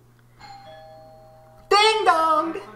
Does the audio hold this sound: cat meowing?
no